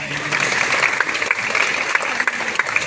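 Audience applause fills a high school recognition ceremony in Pasig, a dense, steady clapping from a large crowd lasting throughout with no break.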